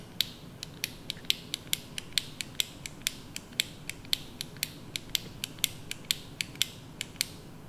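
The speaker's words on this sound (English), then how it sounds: "So you gotta click it 23 times." Crisp, evenly spaced clicks from twisting the ISDIN Si-Nails nail treatment pen dispenser, a little over twenty sharp ratcheting ticks in a steady rhythm, close up and alone.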